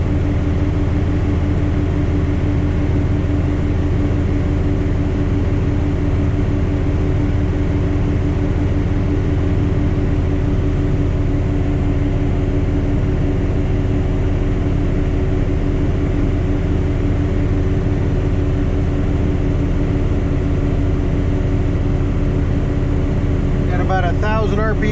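A Frontier SB1174 snow blower engine runs at a loud, constant idle, a steady droning hum with low rumble that stays even for the whole stretch.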